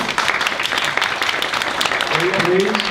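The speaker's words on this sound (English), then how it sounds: "Please, hold the applause, please." Audience members at a state house district candidates forum break into applause, a loud burst of clapping mixed with voices that continues through the short stretch.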